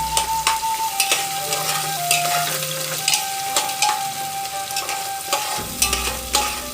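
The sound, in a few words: stirring and frying onions in a pan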